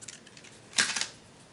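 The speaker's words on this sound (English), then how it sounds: "Line it up and trim it off." Paper being trimmed for a scrapbook page: a single quick slicing swipe of shimmer trim paper, brief and fairly soft, with quiet surroundings before and after.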